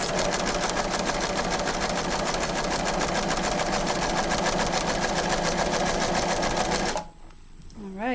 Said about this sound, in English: I'm going to go ahead and sew these two pieces together